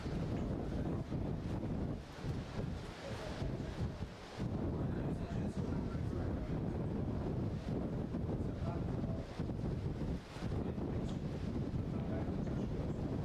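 Strong wind at a surf contest, the Taiwan Open of Surfing, buffets the microphone in a constant roar, with the wash of ocean waves underneath.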